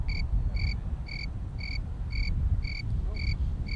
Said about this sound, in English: I am going to insert a cricket sound in here on the video